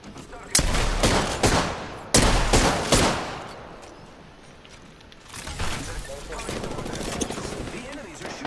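Enemies open rapid gunfire in Apex Legends, with loud close bursts of automatic shots in several volleys, a quieter gap, and then more sustained firing.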